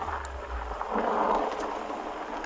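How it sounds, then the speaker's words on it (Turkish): Thunder rumbles low under steady rain in the nighttime horror game No Rest, set on a road near an abandoned town, a continuous stormy wash with no talk. "Gök gürültülü hava şu an. Yağmur yağıyor herhalde."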